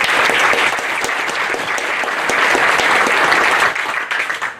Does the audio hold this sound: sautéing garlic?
no